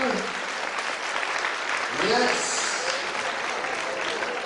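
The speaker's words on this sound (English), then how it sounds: "Give them a big round of applause." An audience at a team event claps and cheers for the top six teams, with dense steady applause and a brief spoken word underneath.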